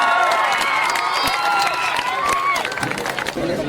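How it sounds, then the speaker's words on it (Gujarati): A crowd applauds and cheers for the winning kabaddi team at an annual sports function's trophy presentation, loud and sustained, with children shouting and voices mixed through the clapping. "તાળીઓથી વધાવીશું."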